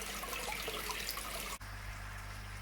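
Water splashing and trickling in a koi pond bog filter, a steady close wash of running water that continues without break, briefly dipping before resuming alongside a low hum.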